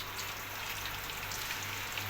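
Food frying in hot oil in a kadhai, a steady close crackling sizzle with no voices.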